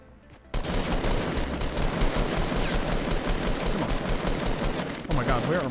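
Dense, rapid automatic gunfire in the battle royale game Fortnite, a near-continuous loud burst of shots after a brief quiet start, with a voice speaking over it near the end.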